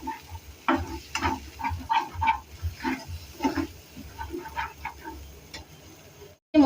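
Masala being stirred and fried on a low flame for homemade paneer, with a spoon scraping and tapping the pan in an irregular rhythm over a soft sizzle, close and fairly quiet, ending in a brief silence.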